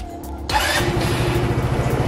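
An Italika D125 LT motorcycle's electric starter cranks briefly, then the engine catches and settles into a steady, close, rumbling idle.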